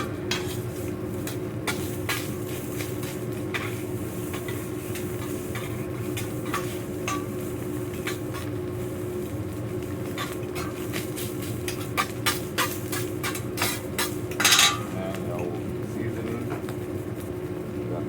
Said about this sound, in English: First one, mix everything together.